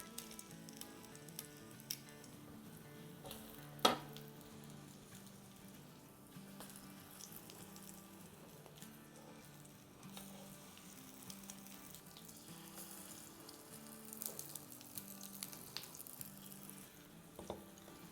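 Aloo bun kebabs shallow-fry in oil in a large pan, pressed down as they cook. The soft, steady sizzle is broken by a few light clinks and scrapes, with no talking.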